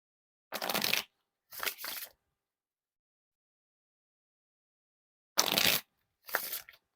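Riffle shuffles of an Ellen deck of playing cards by Theory11, a few of them, each a short, crisp burst of flicking cards, in two pairs separated by a pause.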